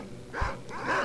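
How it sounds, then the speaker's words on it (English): Dogs in the video game S.T.A.L.K.E.R.: Shadow of Chernobyl give a short growling bark followed by a whining snarl, close and moderately loud, with no one talking over them. "I hear more dogs."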